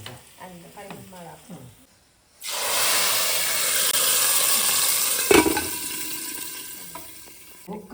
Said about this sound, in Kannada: ಒಗ್ಗರಣೆ